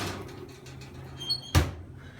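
An oven door shuts once with a sharp, fairly close thump after a batch of baking fries has been checked and shaken, with quiet kitchen room tone before and after.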